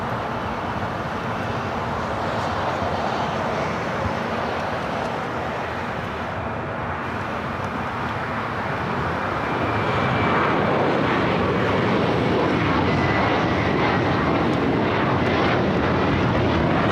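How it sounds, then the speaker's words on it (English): A British Airways jet airliner heads out for takeoff at LAX, its engines a broad, sustained roar that builds in loudness toward the end, steady and fairly close with no voices. "Looks like Speedbird heading to the north side for a takeoff."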